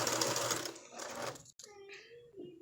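A sewing machine stitches the sleeve side of a lacy flower girl dress, buzzing steadily for about a second and a half before it stops, after which someone talks briefly.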